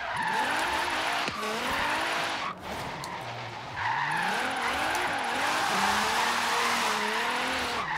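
A thousand-horsepower Nissan GTR Horizon Edition in Forza, flat out in fourth gear, its engine howling with rising and falling pitch amid sustained loud tire squeal and skidding, close and continuous with a brief dip midway.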